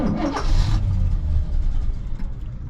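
A 1968 Oldsmobile Delmont 88 with a 455 big-block V8 being cranked to start, a loud, rough mechanical churn close up, an early burst then uneven sputtering rumble over nearly three seconds.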